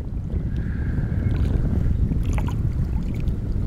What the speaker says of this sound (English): I don't know whether you can hear me over the this wind noise